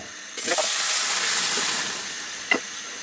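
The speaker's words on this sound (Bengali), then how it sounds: "এখন এর মধ্যে আমি এই ডাইলগুলাকে ঢেলে দিব" Lentils for dal tipped into a hot cooking pot set off a sudden loud, sustained hiss of sizzle and steam that slowly eases. A brief clunk of a utensil sounds near the end.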